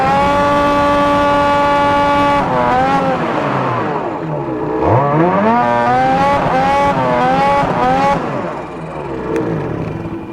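A 2020 Ski-Doo Expert snowmobile with a silver turbo muffler runs at wide open throttle, its loud engine whine rising and falling in pitch through several surges, close and steady with no talking.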